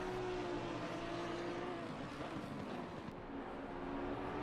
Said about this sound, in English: You could hear the engine of the Ferrari downshifting that big V10.